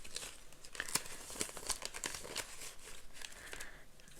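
Paper cash crinkles and rustles as it goes into a paper envelope during cash stuffing for a low-income budget, with soft, close crumpling and brief tearing-like crackles throughout and no talking.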